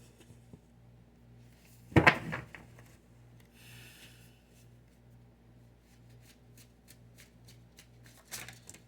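Tarot cards are shuffled by hand in a quiet room, with one loud riffle near the start followed by a string of soft, quick flicks and taps. A brief burst of shuffling closes it.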